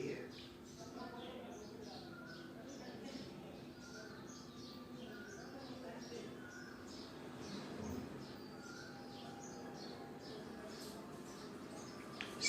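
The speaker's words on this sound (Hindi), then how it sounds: "उन चिड़ियों की आवाज के बीच में कोयल भी धीरे धीरे बोल रही है।" Birds chirping in a quiet outdoor setting at Ranikhet, with a koel calling softly among the repeated tweets and a steady low hum, all under a calm speaking voice.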